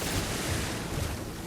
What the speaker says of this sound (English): now we're going to press B to shoot out 3 large tidal waves